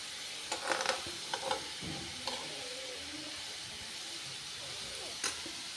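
Taro root (arbi) frying in a pan, a steady close sizzle with scattered stirring scrapes and clinks, no talk.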